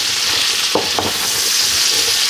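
Onion and fennel cook in a hot pan with a constant hiss of frying, and two brief scrapes from stirring come partway through.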